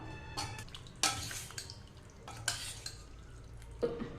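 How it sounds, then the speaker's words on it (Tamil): A pot of mixed vegetable Pongal kuzhambu with fresh herb leaves gets stirred, producing quiet bubbling under three distinct ladle scrapes and clinks against the pot. "சேர்த்திட்டு ஒரு டைம் நல்லா கலந்து விட்டுறலாம்"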